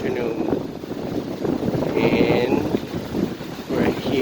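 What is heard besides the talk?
wind on a cold windy afternoon at the beach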